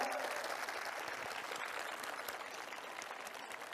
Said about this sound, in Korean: 저런 일은 진짜로 여러분 박수 한번 쳐주셔야 됩니다.